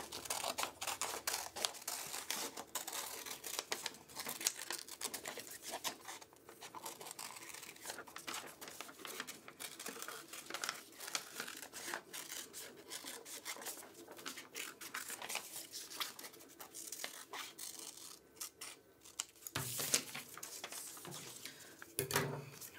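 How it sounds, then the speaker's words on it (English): Scissors snip through paper in a long series of quick, crisp cuts, close and quiet, with small rustles and crinkles between the snips. "So I'm going to just cut out my picture."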